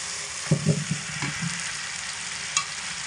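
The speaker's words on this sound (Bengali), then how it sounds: "এই মতো অবস্থায় আমি ভেজে রাখা আলু মশলার মধ্যে দিয়ে দেব।" Fried potatoes stirred into a frying spice paste make a soft, steady sizzle under a few quick scraping and stirring knocks close by, with one more small clink near the end; no talking.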